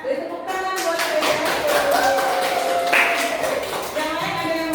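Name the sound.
classroom applause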